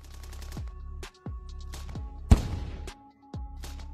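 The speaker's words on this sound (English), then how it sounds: "The assault group continues to move, conducts aimed fire, uses a grenade again." Aimed rifle fire and a grenade from an assault group in combat: a sharp loud blast stands out midway, with several shorter cracking shots spaced around it against a steady low background rumble.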